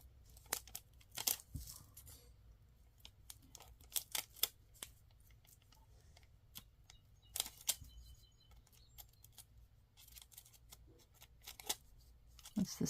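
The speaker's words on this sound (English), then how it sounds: "So I'm going to cut down my piece." Scissors cut a piece of material for specimen slides in scattered, sharp close snips with quiet gaps between them.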